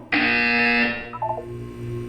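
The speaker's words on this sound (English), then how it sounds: "You will hear a buzzer." Buzzer in the Portal 2 video game: a loud, steady electronic buzz held for just under a second, then fading as a soft synthetic chime sequence and low hum follow.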